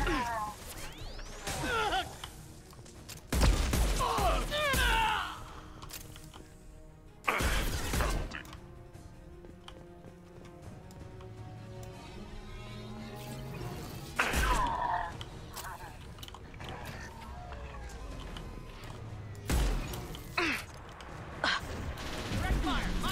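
Gunfire in a Mass Effect 2 firefight: loud bursts of shots and impacts cluster in several heavy spells, with quieter gaps of game ambience between them and a few spoken lines.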